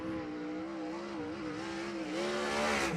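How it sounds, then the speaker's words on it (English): A USAC 410 sprint car running a time-trial lap at a speedway, its engine a steady, buzzing drone with the pitch wavering slightly and swelling louder toward the end, no voices over it. "Love listening to the cars."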